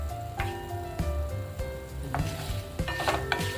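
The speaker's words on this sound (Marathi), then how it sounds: "हे सगळं आपण तेलामध्ये व्यवस्थित परतून घेऊया." Whole spices (fenugreek seeds, stone flower, cloves and star anise) fry in oil with a low, close sizzle, punctuated by light clicks and taps of a spoon stirring against the pan.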